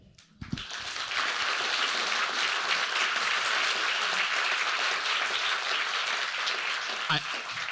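Hall audience at a refugee-focused talk bursts into applause after a brief pause, a broad steady wash of clapping that holds evenly until near the end, with a short voice breaking through.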